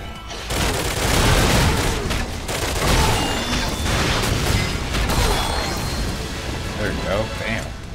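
Rapid gunfire and booming explosions from the shooter game Crash Commando, dense and continuous for most of the stretch, with a player talking excitedly over the battle.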